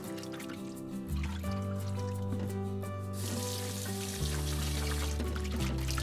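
Water pouring and trickling in a kitchen while shrimp heads are rinsed for red pozole, a steady liquid stream that rises partway through, with steady background music and no talking.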